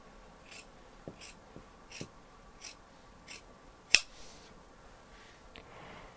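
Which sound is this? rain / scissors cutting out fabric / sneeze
scissors cutting out fabric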